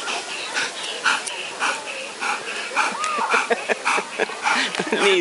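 Dogs close by whimper, yip and give short barks in quick irregular bursts, with a person's voice talking among them.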